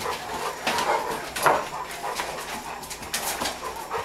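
Dogs indoors bark, whimper and pant, restless and close, with yelps spread through a short stretch and no talking.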